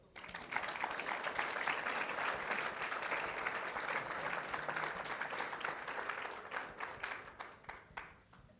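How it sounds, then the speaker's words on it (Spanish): Warm applause fills a church as the congregation claps together, dense and sustained, then thins out and fades near the end. "Denle un aplauso al Señor."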